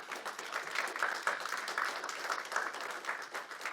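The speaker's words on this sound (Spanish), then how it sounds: "Dale un aplauso a ese Dios bueno." A church congregation claps together, a soft and distant but continuous patter of many hands with slight pulses of rhythm and no talk over it.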